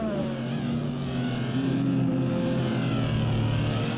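GT race cars, including a Corvette, racing at Zandvoort circuit, several engines droning and shifting pitch together as cars pass close by, a steady loud roar with no talk.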